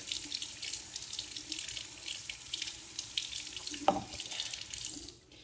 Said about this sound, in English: What you have to do is you have to wet it. So that's what I'm going to do right now. I'm sitting by my sink.